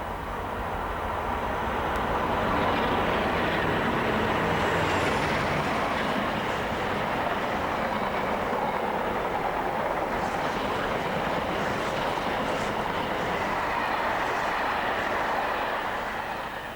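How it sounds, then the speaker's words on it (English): A Freightliner freight train from Trafford Park to Ipswich rumbles past at steady volume, a long continuous roar of wagons on rails with a faint high squeal early on. "This is the Trafford Park to Ipswich Freightliner."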